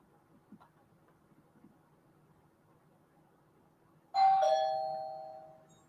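A Ring doorbell sounds a single bright electronic chime that rings out and slowly decays, following a few seconds of quiet room noise with faint small knocks.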